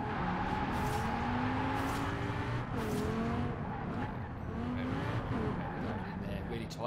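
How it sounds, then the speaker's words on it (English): Lamborghini Huracan engine in the Forza Horizon 4 racing game, revving steadily through a handbrake turn with faint tire skid, continuous and loud, with someone talking over it. "Let's handbrake it round."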